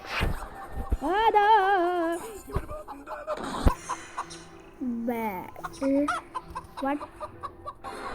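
A chicken clucks and squawks loudly in agitated bursts as a person catches it during a timed grab. Voices are heard amid the bird's cries.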